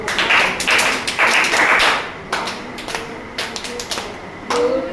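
Children in a classroom clap along in rhythmic bursts of hand claps, fairly close and loud, with a teacher's voice leading between them.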